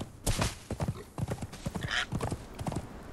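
A slow, low-stamina horse in the Conan Exiles video game heading toward the desert produces steady, rhythmic hoofbeats, close and clear, with a brief whinny partway through.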